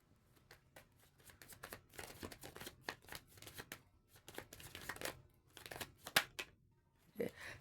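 Tarot cards are shuffled by hand in quick, crisp riffling bursts, close and fairly quiet, with short pauses between the flurries.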